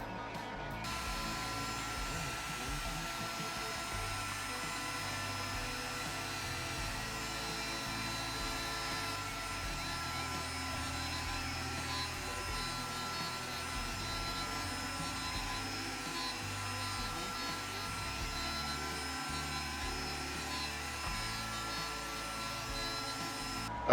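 A CNC router fitted with a 6 mm bit makes a cleaning pass, giving a loud, steady whining roar that holds constant for the whole stretch without breaks.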